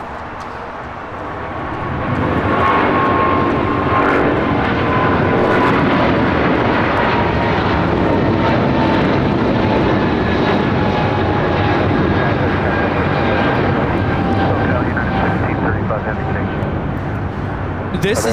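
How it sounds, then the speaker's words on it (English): A United Airlines Boeing 777-200 takes off at LAX, engine noise swelling after a couple of seconds into a loud sustained roar with a faint whining tone, steady and near. "This is United Airlines 1635 taking off to Washington Dulles on a 777-200"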